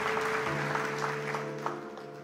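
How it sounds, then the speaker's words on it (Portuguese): Church congregation applauding together during a service, steady clapping with a sustained organ or keyboard tone underneath, fairly close and even throughout. "Dá um aplauso para Jesus então, por gentileza."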